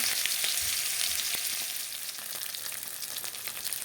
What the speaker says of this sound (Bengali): তেলটা গরম হয়ে গেল পেঁয়াজ দিয়ে দিলাম